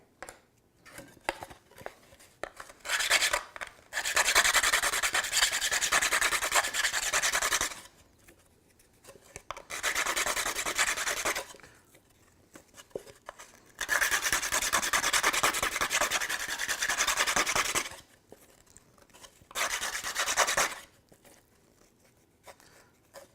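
Eyeglass lenses get their edges sanded and rounded as they are cut to fit a frame. Long, close, raspy rubbing strokes come in repeated bursts separated by brief quiet pauses.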